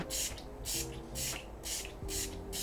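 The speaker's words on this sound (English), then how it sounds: "this is the Makeup Forever Mist and Fix 24-hour setting spray" Makeup Forever Mist and Fix 24-hour setting spray sprayed in a run of about five quick, close, hissing bursts at an even rhythm, with faint background hum between them.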